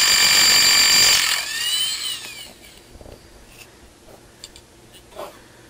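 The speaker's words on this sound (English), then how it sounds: "Once he's done drilling, Jose goes in there and he starts a nut onto" A loud, high-pitched power drill whines and grinds steadily as it bores into concrete, then winds down and stops, leaving scattered faint clanks and taps.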